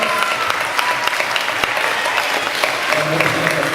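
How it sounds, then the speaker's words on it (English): Sustained applause from a student audience at a school debate competition, dense and steady clapping filling the whole stretch at close range. "Big round of applause."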